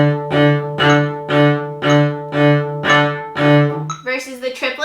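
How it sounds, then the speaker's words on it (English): A cello's open string is bowed in even eighth notes, a steady run of about eight strokes on one sustained low pitch, close and clear, followed by brief speech. "So eighth notes in the open string will sound like this."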